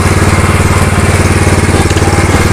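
A BCS 730 power tiller engine runs steadily and loudly up close, giving a rapid, even, pulsing thrum with no change in pace.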